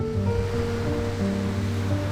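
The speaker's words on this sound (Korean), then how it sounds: "태양은 뜨거웠고 생각보다 파도도 거셌다." Strong sea waves at a beach, a constant loud roar of surf with wind, while a low steady hum runs underneath and no one speaks.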